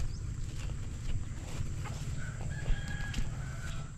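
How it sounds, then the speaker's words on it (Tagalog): Chickens feeding in a crop field on a farm, with soft clucks and a few brief calls scattered over a steady low rumble of background noise, fairly faint and unhurried. "Yan po yung manok."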